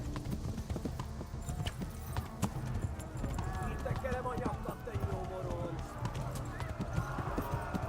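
Horse hooves clip-clop at a quick running rhythm in the video game Kingdom Come Deliverance, with a busy game soundscape around them and someone talking over it.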